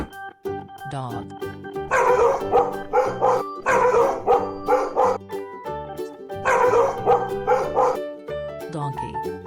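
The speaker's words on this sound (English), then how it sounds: "Dog." A dog barks in repeated bursts, loud and close, the barks grouped in pairs with brief whines and yips between them.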